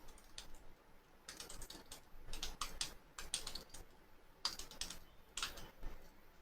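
Keys clattering on a computer keyboard while entering text into an Excel spreadsheet, with irregular bursts of close, crisp clicks and short pauses between them, no talking.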